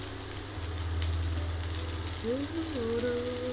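Meatballs fry in a pan with a soft, steady sizzle close by, while a few brief squeaky tones rise over the hiss near the end.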